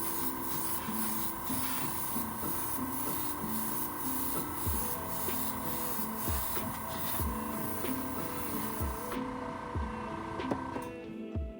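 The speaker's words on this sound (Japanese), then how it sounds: "砂吹きになってしまったところをやすって平らにしておきます。" Light sanding of rough, grainy airbrushed water-based Gaahleri Kaleido paint on a 1/32 Aoshima plastic Honda NSX model car: soft, repeated rubbing strokes with a faint steady background hum.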